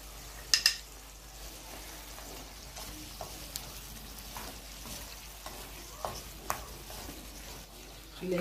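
Ground spices frying in a tagine for beef tongue tagine, soft continuous sizzling with occasional stirring scrapes and utensil clicks, quiet and close.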